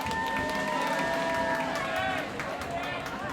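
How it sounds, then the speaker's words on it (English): Audience at a live poetry show at WYCE's Jammies 2016 applauding and cheering, steady clapping with whoops and shouts, fairly close, tapering slightly at the end. "If you guys want to give a round of applause for yourselves supporting arts like this"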